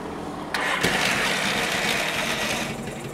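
A Yamaha XS650 chopper turning over on its electric starter: a sudden loud, steady mechanical whir begins after a brief quiet and runs on close by for a few seconds.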